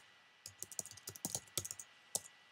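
Someone types a search on a computer keyboard, a quick burst of close, crisp key clicks in an uneven rhythm, alone in a quiet room.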